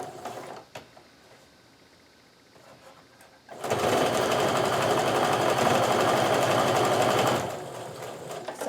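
A sewing machine runs a steady, fast stitch while piecing quilt block rows at a quarter-inch seam, loud and continuous for several seconds after a quieter stretch of handling noise.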